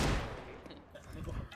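A gunshot in CS:GO, a sharp loud blast at the start with a decaying echo tail, followed by faint scattered game noises.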